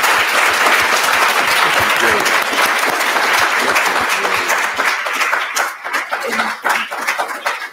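An audience applauds after an academic lecture, loud sustained clapping that thins out and turns uneven toward the end, with some crowd voices mixed in.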